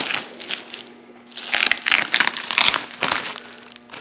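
Masking tape being peeled off the cowl of a 1955 Buick Century, a close, loud crinkling and tearing rip that comes in bursts, with a quieter stretch before it and a steady low hum underneath.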